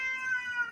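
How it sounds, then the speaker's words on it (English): A pet cat gives a single clear, close meow lasting under a second, tonal and slightly drawn out before trailing off. "That's my cat."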